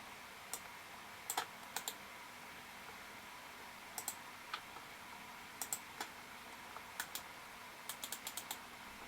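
Faint typing on a computer keyboard in a quiet room: scattered light key clicks arrive in small bursts and single taps, with pauses between them over a soft background hiss.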